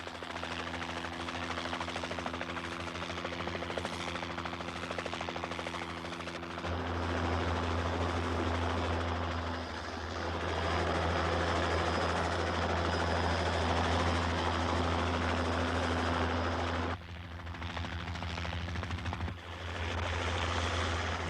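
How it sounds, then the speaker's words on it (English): A helicopter airlifting supplies from an offshore ship to Clipperton Island drones steadily throughout, its loud rotor and engine hum constant and close with some shifts in intensity. "tons of material and even men are transferred to land by helicopter"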